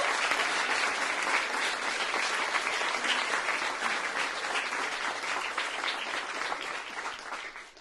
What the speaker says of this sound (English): Let's give it a warm applause